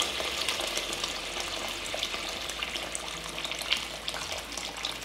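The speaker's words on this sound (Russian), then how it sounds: "Теперь самое время залить нашу обжарку водой." About one and a half litres of water is poured from a kettle into frying onions for a hare and vegetable soup. A steady rushing pour with sizzle runs close and continuous the whole time, and no one speaks.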